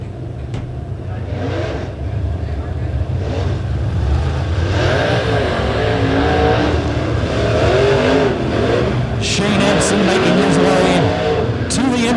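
Late model race cars roaring around Springfield Raceway in a heat race, with a continuous loud engine drone that rises and falls as the cars accelerate and pass, under a commentator's voice.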